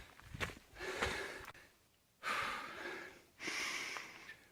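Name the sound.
heavy breathing of someone out of breath while walking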